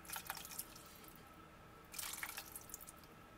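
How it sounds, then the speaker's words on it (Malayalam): Water is poured into a pot of mackerel and raw plantain curry in two short splashing bursts with drips, close by and fairly quiet against a low kitchen background. "അപ്പോൾ കുറച്ചും കൂടി നമുക്ക് വെള്ളം ഒഴിച്ചു കൊടുക്കാം."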